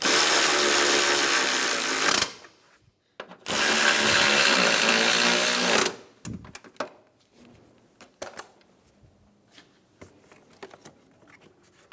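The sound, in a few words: ratchet tightening bolts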